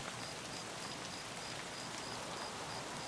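Steady rain falls in the video game Escape from Tarkov, a soft, even hiss of drops on surfaces, faint and continuous with no voices.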